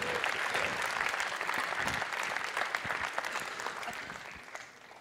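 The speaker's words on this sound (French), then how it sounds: "Et on vous applaudit bien fort." A seated audience at a Cit'ergie label award ceremony applauds steadily for about five seconds, a dense, even patter of clapping that fades slightly toward the end.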